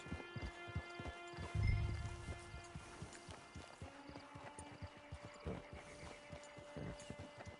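Horse hooves clip-clopping in Red Dead Redemption 2, a quiet irregular run of hoofbeats with a brief snort or whinny near the start, faint and without talk.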